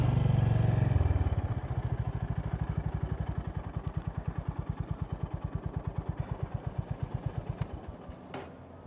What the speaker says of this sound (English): This is the Honda GB350S, and I gotta say, it is an awesome bit of kit.